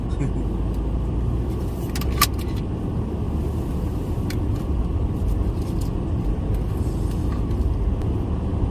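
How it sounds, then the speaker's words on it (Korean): Steady low road rumble of a car interior while riding as a passenger in a husband's car, continuous and fairly loud throughout with a couple of faint clicks and rattles, no talking. "남편 차를 타고 가는 중이에요."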